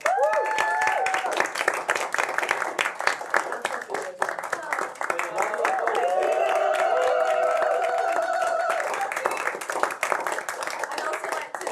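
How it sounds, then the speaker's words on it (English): A live event audience gives a round of applause for the night's artists, with sharp individual claps and some cheering or whoops over the crowd, steady throughout and swelling in the middle. "can I have a big round of applause for all?"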